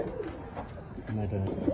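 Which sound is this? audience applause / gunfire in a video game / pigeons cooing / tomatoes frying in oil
pigeons cooing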